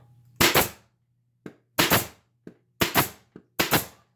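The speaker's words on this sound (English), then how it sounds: "I'm gonna just shoot a few pin nails in here." A pin nailer fires 1.25 inch pin nails, four sharp, loud pneumatic bangs at roughly one-second intervals, each preceded by a faint click, close and with no talk.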